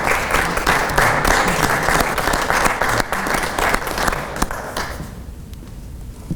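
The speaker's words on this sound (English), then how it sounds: "Let's give a round of applause for Mr. Fancher." Audience applause for an award recipient at a Veterans Day awards ceremony at the Indiana War Memorial in Indianapolis, steady dense clapping from a sizable crowd that tapers off near the end.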